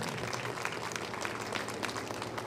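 Dense, continuous applause from a large audience at a religious stage gathering, steady and sustained throughout as a revered guest is welcomed onto the stage.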